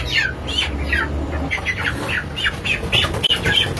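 Many broiler chickens squawk and cluck continuously in an enclosed closed-house battery poultry barn, overlapping calls forming a busy, steady din.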